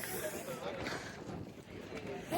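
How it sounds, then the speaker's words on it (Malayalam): Strong wind buffets the microphone at a cold hilltop viewpoint, a continuous rough rumble and whoosh with gusty swells, while people talk over it. "ഭയങ്കര കാറ്റ്."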